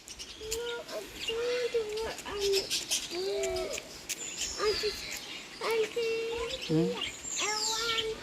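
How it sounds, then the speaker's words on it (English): Birds in an aviary at the Harrison's Cave park in Barbados, with repeated clucking, cooing and short calls, rooster- and dove-like, near and fairly loud over outdoor ambience, with bits of background chatter. "Now we're headed to the birds, guys. Seeing the beautiful birds, see."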